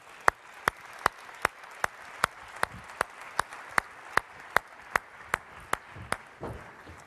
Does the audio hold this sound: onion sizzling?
no